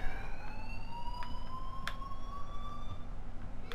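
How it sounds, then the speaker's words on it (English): Police sirens in the video game Life is Strange, a continuous wailing siren sweeping in pitch over a steady low background hum. "These sirens are giving me anxiety."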